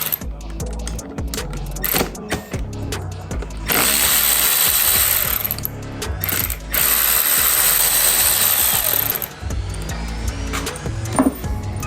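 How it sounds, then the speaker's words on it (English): A ratchet wrench loosens the bolts securing the front brake master cylinder on a Yamaha R1 motorcycle, with rapid clicking pawl bursts in several close, loud runs and brief pauses between them. "now I'm going to remove the bolts that secure the front master brake cylinder"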